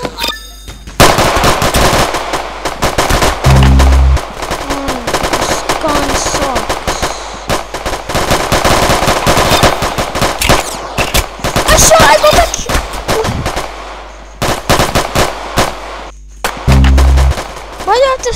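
Rapid automatic gunfire in the Roblox video game played on an iPad, loud bursts of repeated shots spread across the clip, with some quieter gaps.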